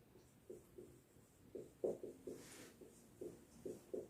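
A pen writing by hand on paper, faint close scratchy strokes in short irregular bursts, no speech.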